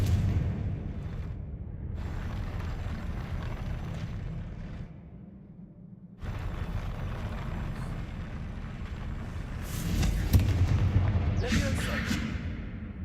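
Confringo fire spell explosions in the Hogwarts Legacy video game, heavy booming blasts with rumbling low roars that swell and recede across the stretch, punctuated by a short pause and a sharper burst near the end.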